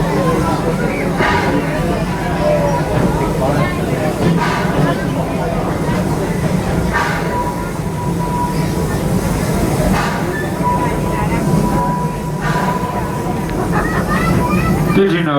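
The Six Flags Railway train at Six Flags St. Louis rumbles and clatters steadily along its track with a continuous hiss and rolling rail noise, close and loud throughout with no break.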